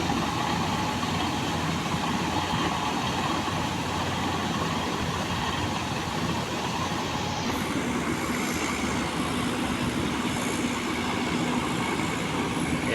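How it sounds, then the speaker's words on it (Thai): A big six-cylinder rotary tiller tractor engine runs continuously with a dense, rumbling roar, steady throughout, with a faint higher whine appearing partway through. "รถตีดินครับ เครื่องน่าจะเป็นหกสูบนะ"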